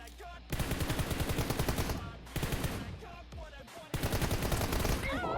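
Automatic gunfire sprayed from inside a building in PUBG Mobile: rapid sustained bursts of shots, loud and close, in three long volleys separated by brief gaps, with faint game sounds between.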